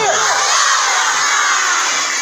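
A crowd of students shouts takbir together in unison at the end of a school ceremony, loud, dense and sustained, a single massed cry of many voices filling the whole moment.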